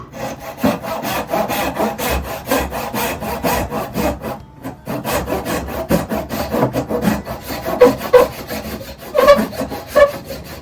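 A hand saw rasps through wood in steady back-and-forth strokes while making a Windsor stool, close and loud, pausing briefly midway before continuing.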